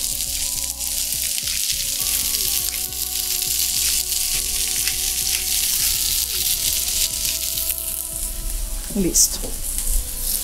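Broccoli seasoned with salt and pepper sautés in a pan with a steady, close hiss and sizzle, broken by a few stirring clanks, while a voice speaks briefly.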